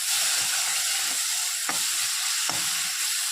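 Banana flower sizzles loudly in a hot pan while it is sautéed and stirred, a dense continuous frying hiss with two sharp scraping strokes of a spatula close up.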